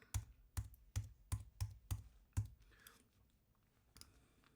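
A computer keyboard being typed on, seven evenly spaced firm keystrokes followed by a few faint clicks, close and quiet with no talk.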